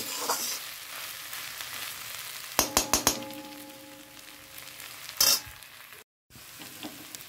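Onion and green chilli fry with potatoes in a pan, giving a steady close sizzle broken by a few sharp clinks and taps of a utensil against the pan.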